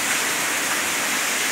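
A waterfall inside a cave in Ilicínea, southern Minas Gerais, roaring as a dense, steady, loud wash of falling water that fills the space without pause.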